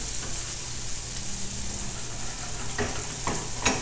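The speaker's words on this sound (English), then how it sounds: "in a nice hot pan, all I'm doing is just going to saute these out" Vegetables sauté in a hot pan with a soft, steady sizzle, broken near the end by a few quick scrapes and taps as they are stirred.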